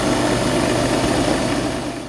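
A modified Craftsman wood lathe spins a Rockler long pen blank during sanding, giving a steady, close motor hum with a low drone that holds evenly throughout.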